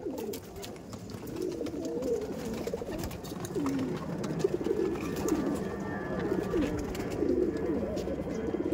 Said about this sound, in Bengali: প্রচুর ওল্ড লাইনের কিছু নাসেলের পায়রা আছে,